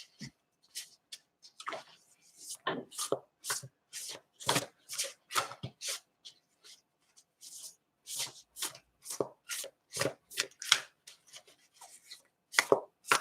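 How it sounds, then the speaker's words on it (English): Oversized tarot cards are shuffled by hand, a series of soft papery riffles and slaps coming in uneven bursts, close and fairly quiet. "the cards are huge, so they take a little while to shuffle"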